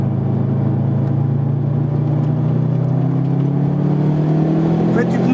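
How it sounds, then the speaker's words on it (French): A Subaru Impreza accelerating hard on a race circuit during a track day, its turbocharged engine droning steadily and rising slowly in pitch throughout, loud and close as if recorded from inside the car. "Et maintenant, tu accélères."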